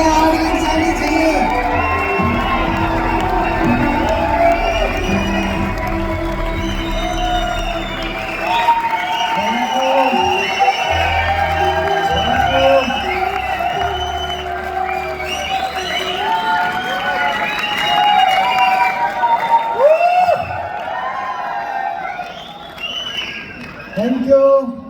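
A live stage audience cheers, whoops and claps to welcome a guest, a loud sustained crowd roar with shouting and whistles swelling and ebbing throughout, with voices and music-like tones mixed in.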